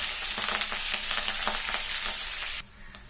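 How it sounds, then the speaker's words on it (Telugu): Curry leaves sizzle and crackle loudly in hot oil while rasam tempering is prepared, a steady dense hiss with small pops that cuts off abruptly near the end. "ఇది కరివేపాకు కూడా వేసి వేగిస్తాం"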